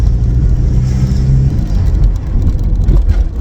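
A VW Passat B5 on 17-inch wheels with small tyres drives along at about 40 to 50 mph, giving a loud, constant low road and tyre rumble with engine drone underneath.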